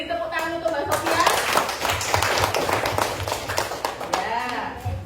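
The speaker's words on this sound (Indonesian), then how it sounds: "Boleh dong beri tepuk tangan untuk Mbak Sophia." Classroom applause for a student, a short round of clapping that starts abruptly after a moment of talk, holds steady for a few seconds, then fades as speech resumes.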